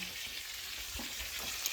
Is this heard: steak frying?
yes